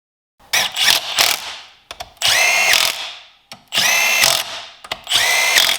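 A power tool torques down the case bolts on a Sea-Doo 787 engine being assembled, sounding in loud, close bursts of whirring and ratcheting separated by short pauses, with no talk.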